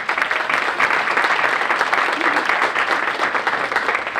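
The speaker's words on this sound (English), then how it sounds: "Let's have a round of applause for them" An audience at a chamber of commerce luncheon applauds steadily, a dense wash of clapping hands that holds at the same level for a few seconds.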